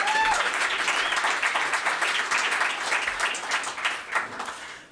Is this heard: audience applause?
yes